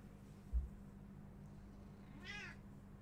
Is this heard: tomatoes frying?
no